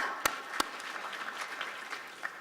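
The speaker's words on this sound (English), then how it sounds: "If I could just ask you to give them a round of applause" Brief audience applause at a summit panel discussion as panelists walk back to their seats, a steady wash of clapping with two sharp loud claps standing out near the start.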